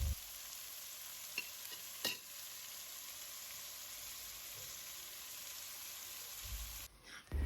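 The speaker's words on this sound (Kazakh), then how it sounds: "жақсылап асықпай 20 минут пиязымыз қызарғанша қуырып аламыз" Chopped onions fry in oil in a pan for eggplant caviar, giving a steady continuous sizzle with a few soft stirring knocks, close and alone without talk.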